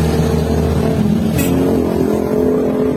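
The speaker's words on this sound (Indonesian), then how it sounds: "ini motor hidup" Honda Vario 150 motorcycle engine idling close by, a loud steady low hum with even pulsing and no speech.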